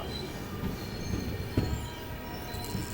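Machilipatnam-Dharmavaram Express train at Yerraguntla railway station, a steady low rumble of rolling railcars with faint wheel squeal and a sharp clunk partway through, continuous and fairly close.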